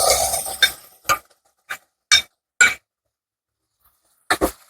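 Spoon stirring white sauce into sautéed vegetables in a pan, heard as a handful of separate clinks and scrapes spaced irregularly, close and fairly loud, after a brief rustle at the start.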